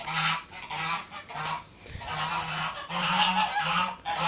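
Several geese honking repeatedly and loudly close by, a run of short nasal calls with brief gaps between them.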